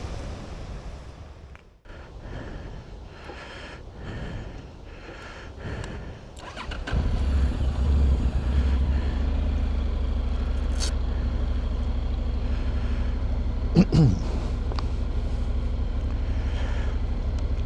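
Honda NC750X motorcycle engine starting after a few seconds of shuffling and handling noises, then holding a steady, loud running note close by, with a brief knock partway through.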